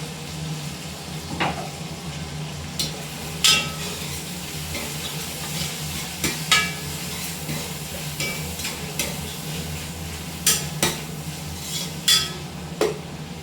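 Onions with green chilli and tomato sauté in a pan, giving a soft steady sizzle broken by repeated clinks and scrapes of a spoon stirring against the metal.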